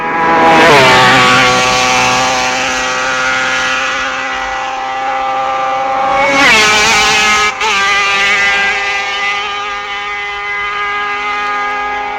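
A 1966 Isle of Man TT race with racing motorcycles, including a Yamaha, passing close by. A loud engine drone rises and falls as one machine approaches and goes by, then a second high-revving bike sweeps past mid-way.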